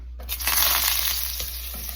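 Butter hits a hot, smoking pan and sizzles briefly with a soft crackle over a low steady hum, close and fairly loud, no speech.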